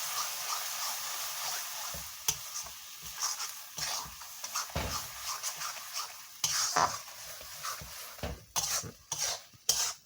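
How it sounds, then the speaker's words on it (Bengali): Spices, onion, green chilli, salt and turmeric being stirred into oil in a wok, with metal spatula scrapes and clanks over a soft sizzle, intermittent and close, no talking. "এগুলো ভালো করে তেলে ভালো করে মিক্স করে নিতে হবে।"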